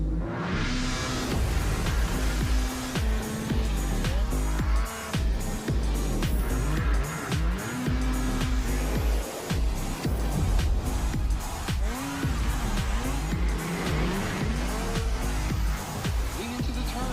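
Rotax racing karts at the Rotax MAX Challenge Grand Finals drive hard through turns, their engines whining and shifting pitch continuously with tire squeal in the mix, loud and close for the whole stretch.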